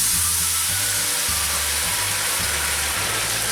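Rice sautéing in hot oil in a pan sizzles steadily and loudly, a constant dense frying hiss with a low bubbling rumble beneath, heard alone.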